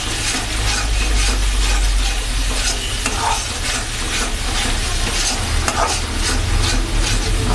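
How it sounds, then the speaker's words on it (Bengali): Frying for dhaba-style chicken bharta crackles loudly and steadily in a pan, with continuous close sizzling and the scrape of stirring running through the whole stretch. "ভেজে নেব।"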